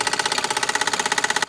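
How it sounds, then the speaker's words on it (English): A 1972 Mamod SR1a toy steam roller runs slowly, its small engine chuffing in a rapid, even, close rhythmic beat that stops abruptly at the end. "flick the flywheel, and start it moving."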